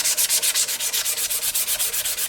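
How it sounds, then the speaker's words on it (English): Sandpaper rubs back and forth over the quilted wooden finish of a custom mandolin, a quick even rhythm of about eight scratchy strokes per second, close and steady with no talking. "Still detailing, still sanding."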